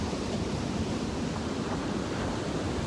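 Ocean waves at the shore make a continuous, broad wash of surf that is loud and even throughout, with some wind rumble mixed in and no voices.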